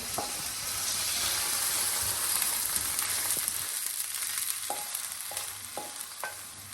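Meat for lasagna sizzling and hissing in a hot pan with a steady broadband fry, occasional scrape of stirring and a few light knocks near the end, close and continuous with no talk.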